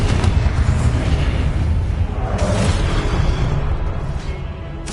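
A sustained, roaring blast from a Confringo fire spell in Hogwarts Legacy, loud and dense with rumbling low end, holding steady for several seconds.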